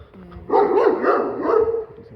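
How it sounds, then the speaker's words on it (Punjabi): A dog in Moosa village, Punjab, gives a short run of close, throaty barks and yelps lasting under two seconds. "ਬਾਈ ਦਾ ਕੁੱਤਾ"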